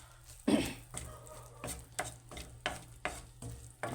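Spaghetti with cheese is stirred in a pan, with repeated scraping strokes and soft clanks at a regular rhythm over a faint sizzle.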